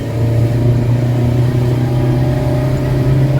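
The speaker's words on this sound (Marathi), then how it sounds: "पूर्ण गाडी फर्स्ट गिअरवर तुम्हाला चढवायची आहे" A car engine labours in first gear up a very steep hill road near a waterfall, giving a loud, close, unbroken droning hum that holds steady throughout.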